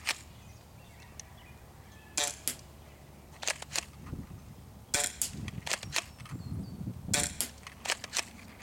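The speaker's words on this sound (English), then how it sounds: "take a couple shots at the human-sized target before moving on to the smaller one" An A&K 870 spring-powered airsoft shotgun fires at targets outdoors, giving a few sharp snapping shots spaced seconds apart. Quieter handling clicks of racking and reloading fall between the shots, and there is no talking.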